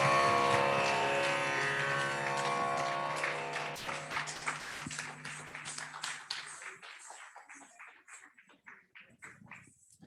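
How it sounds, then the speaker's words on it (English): Applause in a Queens, New York cultural show follows a sung 'Om Namah Shivaya' devotional performance; the sustained music fades out while scattered clapping builds into a steady round of audience applause that thins toward the end. "Let's give her another round of applause."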